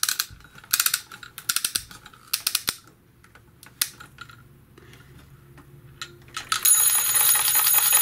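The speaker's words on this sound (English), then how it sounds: "you can hear that it also makes the bell sound" Bursts of bright, rapid bell ringing from a toy one-man-band instrument repeat close by, then a longer continuous jangle of ringing near the end.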